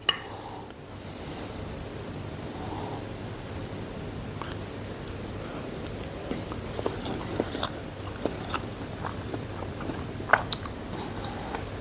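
Someone eats homemade veg hakka noodles, soft wet chewing and slurping close up, with occasional light clicks and crunches, quiet and without speech.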